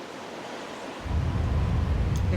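Ocean water in The Legend of Zelda: The Wind Waker HD, a steady broadband wash and rush that swells suddenly into a louder, rumbling surge of splashing water partway through, with no voices.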